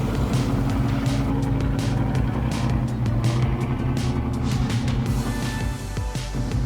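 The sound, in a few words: engine of heavy forestry vehicle growling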